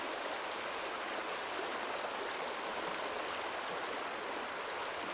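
The upper Danube flows in a steady, broadband rush of moving water, continuous and fairly close, with no voices over it.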